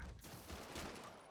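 Gunfire crackling through a Spider-Man video game street scene near civilians, a dense, steady burst of shots sounding fairly close, with no talk over it.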